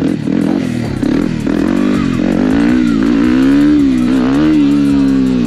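A Honda Grom motorcycle engine revs loudly and unevenly, rising and falling in pitch, with a few clunks as the front wheel comes down from a wheelie.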